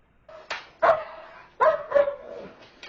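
One dog furiously attacking another over food, with short harsh barks and snarling outbursts in quick, uneven bursts, close and loud.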